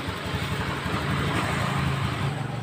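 A Honda scooter engine runs steadily and evenly at an idle after a worn part was replaced, with a smooth low hum and no knocking, close by.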